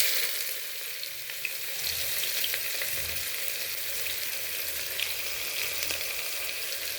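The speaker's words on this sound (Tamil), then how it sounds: "இப்போ வெங்காயம் போட போகிறேன்." Onions sizzle steadily in hot oil in a pan while kuska rice is being cooked, a continuous close crackling hiss with occasional soft stirring scrapes and no talking.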